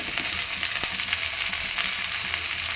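A pan of fish curry with winter vegetables is stirred over the heat, producing a loud, dense hiss of frying with scattered soft scraping from the utensil. The sound stays steady throughout, without speech.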